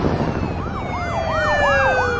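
Police car sirens in The Walking Dead video game, a loud wailing siren sweeping up and down in repeated cycles with a second steady tone layered over it, close and continuous with no talk.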